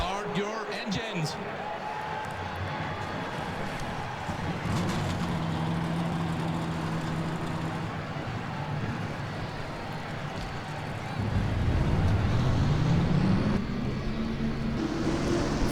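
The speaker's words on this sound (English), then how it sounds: "Let's go down trackside to fire these 42 engines up." Forty-two stock car engines fire up together at Charlotte in the NASCAR Racing 2003 video game, a dense continuous roar with a rising rev swelling louder near the end, steady and full throughout.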